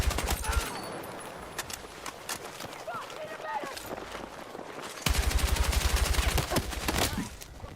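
Gunfire in the video game Battlefield 6, rapid automatic bursts rattling in two main stretches at the start and end, with quieter action noise between and a voice talking over it.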